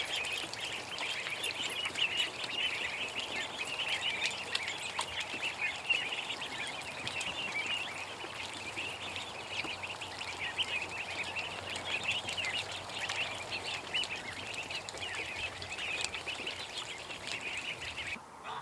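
Ducks in a farmyard at evening, one straying across a boundary line; steady outdoor chatter of quacking and bird calls runs continuously at moderate level, with no talking.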